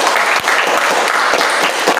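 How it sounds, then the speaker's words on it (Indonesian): Applause fills a classroom as students clap for a classmate after her presentation in a dance arts lesson, a steady, dense burst of many hands lasting about two seconds and ending abruptly. "Kita berikan tepuk tangan untuk Tia."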